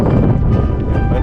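Strong, steady wind buffeting a microphone beside a flat canal path during a marathon training run, a constant low roar with no clear speech over it.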